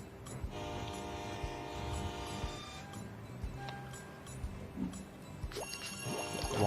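A train departs in the mobile game Tiny Rails, with a sustained whistle-like horn tone and rolling rail clatter underneath, then a second burst of chiming tones near the end, fairly quiet overall with no talk.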